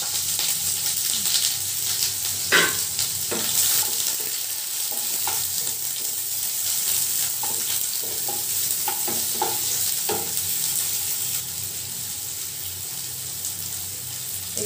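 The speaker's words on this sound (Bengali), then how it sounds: "এখানে আমি এবার পেঁয়াজ কুচিটা আমি এখানে দিয়ে দেবো" Chopped onion hisses and crackles steadily in hot oil, a loud continuous sizzle close by with a few soft clicks of stirring on top.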